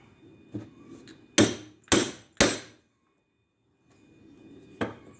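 A cold chisel is struck with a hammer into lead-sheathed electrical cable, giving three loud, sharp metallic blows in quick succession, with fainter taps before and after and no talking.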